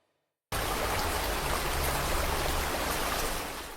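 Torrential rainfall pouring down in a dense, loud, steady roar that starts abruptly after a brief silence and continues unbroken, easing slightly at the end.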